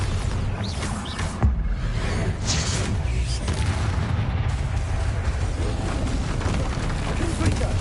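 A Bombarda spell explosion in Hogwarts Legacy, a sharp blast followed by a sustained deep rumbling roar of debris and booms lasting several seconds.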